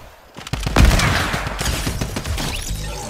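Hunting rifle and drum gun fire in the Fortnite video game, a sharp shot followed by a dense rattle of rapid bursts that continues for a few seconds, loud and close.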